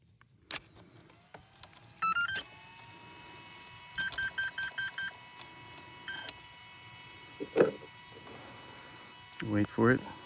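An electronic speed controller on a Roban Airwolf 600 scale RC helicopter gives a close series of short electronic beeps as it is connected, in a rising trio and then a run of evenly spaced tones over a low hum.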